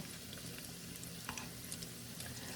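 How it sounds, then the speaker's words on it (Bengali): Onion pakoras fry in hot oil, giving a constant, dense sizzle with fine crackling throughout, close and steady with no talking. "এখন শুধু পাকোড়াটা ভাজতেছি"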